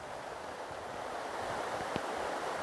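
A river and waterfall in Scotland rush in a steady, broad wash of flowing water that stays constant throughout, with a faint knock near the end and no voices.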